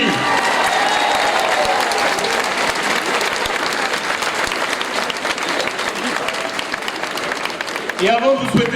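An audience at the opening of the 2023 Fêtes de la Madeleine applauds singers loudly and continuously, dense clapping that gradually thins out before a voice speaks at the end.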